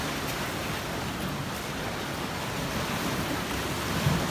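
Ocean waves at Cabongaoan Beach, Burgos, Pangasinan wash in a steady, continuous hiss of surf, unbroken and fairly soft, with no one speaking.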